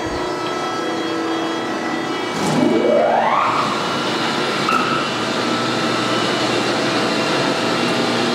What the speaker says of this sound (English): As you can hear, it's a really quiet running grinder, as to be expected from Weima.